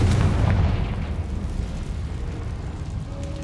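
A Confringo fire spell explodes in the Hogwarts Legacy video game, a heavy booming blast with a deep rumbling tail that fades over a few seconds.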